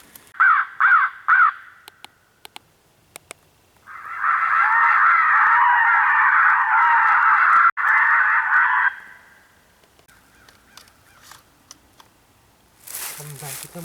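An electronic game caller plays a 'Crow Frenzy' sequence outdoors during a small game hunt: a few quick caws, then a long, loud, dense stretch of raucous crow calling that cuts off, followed by quieter clicks.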